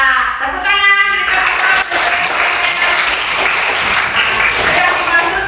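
A class of students claps together in a classroom lesson, producing dense, sustained applause right after a brief bit of speech.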